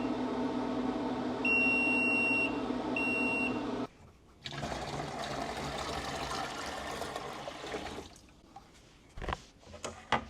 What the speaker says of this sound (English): The hatcher's beeping because the temperature is too hot in there and the humidity is too hot